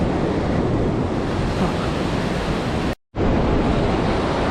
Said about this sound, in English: those waves are getting a little bit